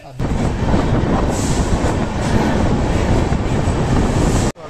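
An overnight express train rumbles steadily alongside a railway station platform, a loud, continuous roar of wheels and carriages that cuts off abruptly at the end.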